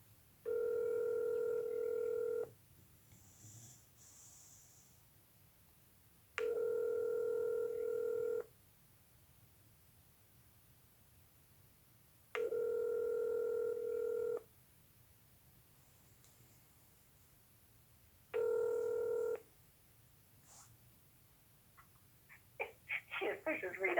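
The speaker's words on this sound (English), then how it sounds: "She pushes redials." Repeated telephone tones sound as a line is redialed, with four steady two-second tone bursts separated by quiet gaps and a quick burst of dialing beeps at the end, over faint background noise.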